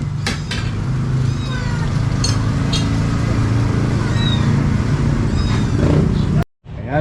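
A cat meows several times in short calls over a steady, loud background hum and household clatter, with people talking nearby.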